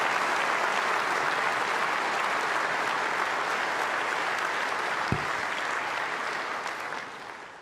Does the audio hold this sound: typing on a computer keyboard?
no